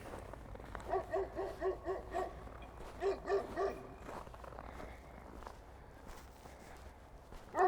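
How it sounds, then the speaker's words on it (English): A dog barks in short rhythmic bursts at passersby on a winter walk through Seeley Lake, Montana. The barks are faint and distant, come in two clusters, and are heard over soft footsteps crunching along a snowy road. "This dog does not want us around."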